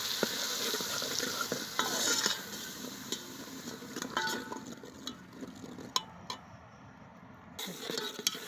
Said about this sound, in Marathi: हे बघा आपला मसाला चांगला परतलाय मस्त कलर आला